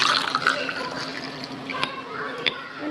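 Hot water is poured over seven cloves for a home remedy, a steady close splashing and filling sound with faint drips and trickles, no talk.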